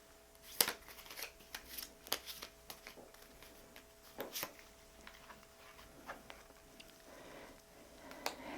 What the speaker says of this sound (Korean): 그럼 조언 카드 뽑아 보겠습니다.